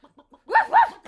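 After a few soft clucking sounds, a voice mimics a dog with two quick, loud barks in a row.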